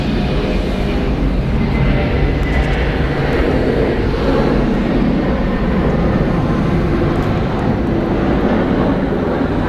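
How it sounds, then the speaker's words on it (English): A 21-year-old Delta Air Lines Boeing 717 leaves Atlanta Hartsfield-Jackson for Des Moines, its jet engines a loud, sustained rumbling roar that stays even from start to finish. "Departing here, Delta Airlines flight 2556 going to DSM. It is a Boeing 717"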